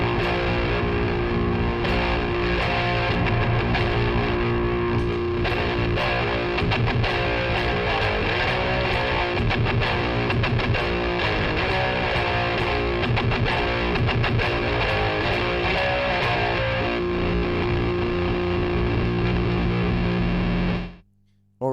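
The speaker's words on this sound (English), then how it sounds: "the guitar sounds like this" Distorted electric guitar played continuously for about twenty seconds, thick and loud with chord strums and sustained notes through effects, routed via a Lehle mixer into a pedal switcher, then cutting off abruptly at the end.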